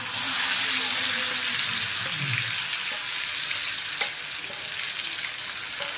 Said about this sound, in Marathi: मसाल्याला छान परतून घ्यायचं आहे।